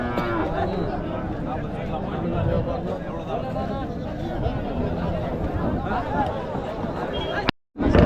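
Cattle lowing amid a busy Madrapalli cattle market in Tamil Nadu, where pairs of bulls with carved horns are brought for sale; a dense, continuous din of animals and crowd chatter, with people talking throughout.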